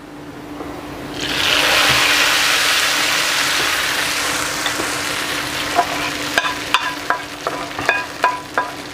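Browned fried onions in ghee being stirred into a pot of beef haleem, a loud continuous sizzling hiss that swells and then settles, followed by several sharp spoon knocks against the pot near the end.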